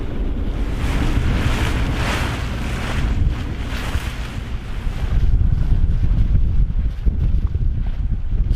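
A sailboat under way at sea off San Diego, bound for the Channel Islands. Steady wind buffets the microphone over a broad wash of water and hull noise that swells and eases throughout, with no talk.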